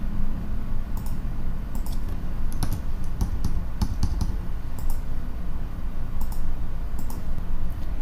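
Computer keyboard typing mixed with mouse clicks while filling in form fields in project management software, a steady run of light clicks and keystrokes over a low room hum, fairly close.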